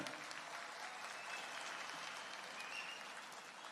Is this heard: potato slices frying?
no